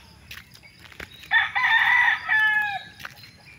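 A rooster crows on a hillside farm in the early morning. One clear, fairly close crow rises and holds, then trails off over faint background clucking and ambient noise.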